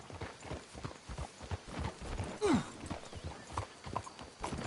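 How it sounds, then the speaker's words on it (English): Horses' hooves clip-clop in Red Dead Redemption 2, a steady rhythmic trot of several horses on a trail with a brief whinny partway through, close and clear. "Let's hitch the horses up ahead."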